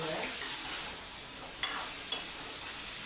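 Radish sizzles as it is sautéed in a pan for chutney, a steady close frying hiss broken by a few stirring scrapes, with no one talking.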